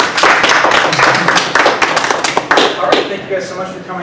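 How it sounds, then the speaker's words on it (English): Loud, close clapping from a convention panel audience at Yumecon, with uneven bursts and thuds as a speaker thanks the crowd over it. "can I get a round of applause for my ladies?"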